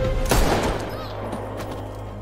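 Gunfire from the action film Sniper 211: a loud burst near the start, then scattered shots under a steady rumbling soundtrack drone. The shots are dense and loud over the constant background.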